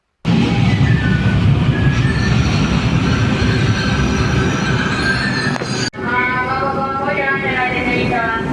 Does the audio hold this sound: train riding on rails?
yes